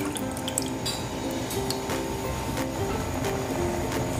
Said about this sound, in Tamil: மிச்சம் இருக்க பாலை இதில் ஊற்றிடலாம்.